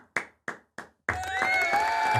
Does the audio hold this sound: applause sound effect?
yes